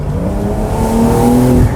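Exhaust note of a 2022 Porsche 911 Carrera 4 GTS Cabriolet with some soundproofing removed, a loud, steady engine drone that rises slightly in pitch as it pulls, heard close and alone.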